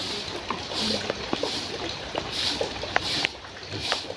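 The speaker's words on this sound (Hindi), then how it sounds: "अरे बड़ी तेज बरस रहा है" Heavy rain pours down in a village in India, a dense, steady hiss of water with scattered sharp drips and splashes, continuous and fairly loud throughout.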